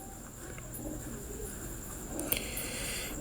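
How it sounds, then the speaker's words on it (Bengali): Oman teddy pigeons coo softly amid steady background noise, faint low calls with a slightly louder burst near the end. "এখানে আছে দুই পেয়ার ওমান টেডি কবুতর।"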